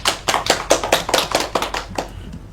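A classroom group claps together in quick, steady, rhythmic beats, close and fairly loud for a couple of seconds before tapering off.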